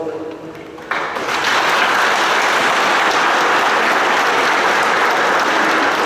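Church congregation breaks into loud, sustained applause during a first communion and confirmation service, the clapping swelling after a brief moment of quieter murmur and holding dense and steady to the end.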